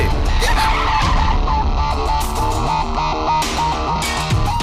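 A car brakes hard and skids to a stop, its tires squealing loudly and continuously up close with a harsh, slightly distorted sound.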